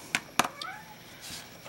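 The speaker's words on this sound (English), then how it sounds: "That's my other cat." A house cat gives a short, faint meow indoors amid a few quiet taps and clicks nearby.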